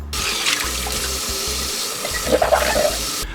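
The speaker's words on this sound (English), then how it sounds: "I really should unpack this rice making cup and wash it one time" Running tap water splashes over a rice maker mug being washed in a sink, a steady close gush with brief clinks and handling noises partway through.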